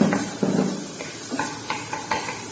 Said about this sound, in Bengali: রসুন দিলে নাড়তে থাকলাম।